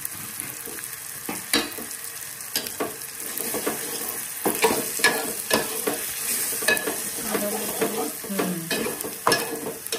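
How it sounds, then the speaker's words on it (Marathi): Homemade red chilli masala and garam masala frying in oil in a pan, a steady sizzle broken by repeated sharp scrapes and stirring clacks of a spoon against the pan. "कलर येईपर्यंत फ्राय करायचा."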